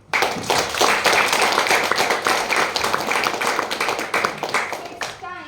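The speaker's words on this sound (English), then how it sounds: "Can we have a big round of applause for Krishna?" Dense, steady clapping from a meeting audience of about 60 attendees fills the clip, loud and close with many overlapping hands, tapering off slightly at the end.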